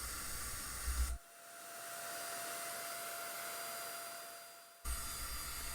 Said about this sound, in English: it sprays on great and it covers everything up really well